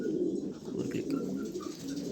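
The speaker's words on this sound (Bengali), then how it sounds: "এটা একটা নর কবুতর" A male pigeon coos close by, a low, steady, throaty murmur that carries on unbroken for about two seconds with no other sound over it.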